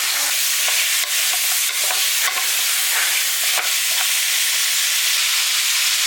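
Chicken pieces for a big-plate chicken dish sizzle loudly and continuously in a pan, broken by several spatula scrapes as they are stirred.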